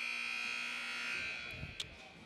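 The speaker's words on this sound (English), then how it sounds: "As the buzzer sounds," A basketball game buzzer sounding in a school gym before a girls' game, a steady loud electronic tone holding for over a second amid crowd noise, then fading as faint squeaks and shouts follow.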